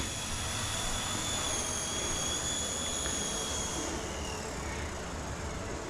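A Blade Nano S3 micro drone hovers indoors in an atrium as its battery runs low, giving a steady high-pitched motor whine with shifting tones that stays loud and continuous throughout.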